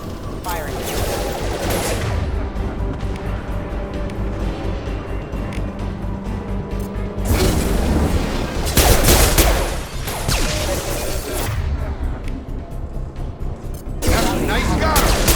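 Sustained gunfire in the Mass Effect 2 video game rattles almost without a break as dense rapid bursts and booms, loud and busy, with voices talking over the shooting.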